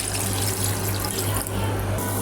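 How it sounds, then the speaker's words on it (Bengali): Water pours steadily into a cooking pot of fish, a continuous close splashing rush for a couple of seconds, no voices. "পানি দিয়ে দেব।"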